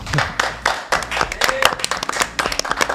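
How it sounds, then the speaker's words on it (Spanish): A studio audience on a TV talk show gives sparse, uneven applause for the guests, individual claps popping out in a loose rhythm, with some voices murmuring underneath. "Pido un aplauso para ellos, por favor."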